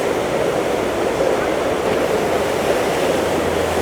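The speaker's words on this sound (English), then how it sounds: "And this is just a normal river that goes down down the street" River wave at an urban surf spot in Munich, a constant loud rush of churning water heard from a bridge, broadband and steady with light wind noise.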